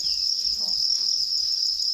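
A copper cricket chirps in a high, steady, shimmering trill that carries on without pause. It sounds close and dominant over a faint low background, and no one speaks.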